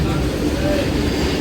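Tungabhadra Express rolling along near Kacheguda, a steady, dense rumble of a moving train heard from inside the coach, loud and continuous across the short moment, with a voice talking over it.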